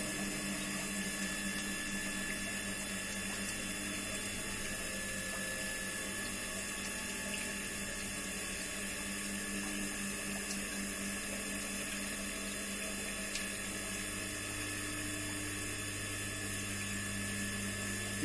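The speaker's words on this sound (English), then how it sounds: "Now you can observe the raise of water level in the measuring tank." Water pouring steadily into a measuring tank in a pipe flow lab, with a pump humming beneath: a constant loud rushing and droning without a break, with no voices.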